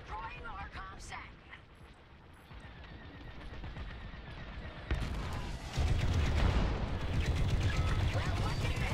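Laser gunfire and explosions fill a space battle in the Star Wars Squadrons video game: rapid blasts and booms that thicken into a dense roar toward the end, with game voices talking over the fight.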